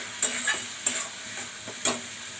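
Masala spices frying in oil as they release their oil, stirred in a pan with four distinct spatula strokes over a bright, close sizzle, no voices.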